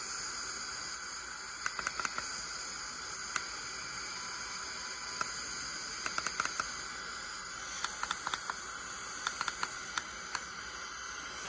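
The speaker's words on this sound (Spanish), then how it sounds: "Se oye estática porque no me he conectado a ninguna estación" FM radio static from Power Beats clone headphones tuned to no station gives a steady, faint hiss with sharp crackling ticks scattered through it, heard alone with no talk.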